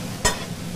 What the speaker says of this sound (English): The sound of a sizzle